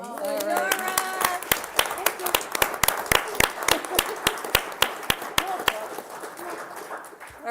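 A small group at a mayor and council meeting gives a round of applause, with distinct, rhythmic hand claps close to the microphone and a voice speaking briefly over them.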